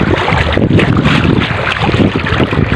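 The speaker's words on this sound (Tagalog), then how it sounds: "Pag ganito malalaki yung alon, ang hirap maglakad." Big sea waves wash onto a beach during a fishing trip, a loud, continuous roar of surf mixed with gusty wind buffeting the microphone close up.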